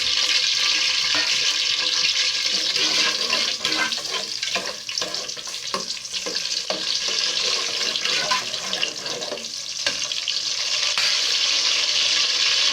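Onions frying in a pot as the base for a Nigerian fish stew make a loud, dense, continuous hissing sizzle close by, with faint stirring scrapes and no talk.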